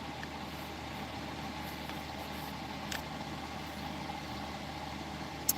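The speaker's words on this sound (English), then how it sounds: "you got to keep your motor running" A van engine idling in the cold in the woods, a steady low rumble held evenly throughout, close and alone with a faint click near the end.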